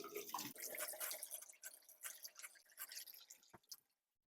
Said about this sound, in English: we're going to open both faucets so the water shoots out any debris